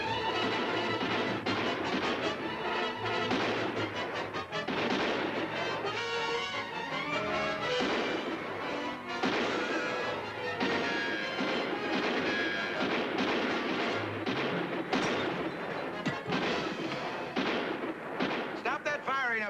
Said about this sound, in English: Stop that firing up there, you Carters.